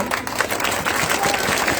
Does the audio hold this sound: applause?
yes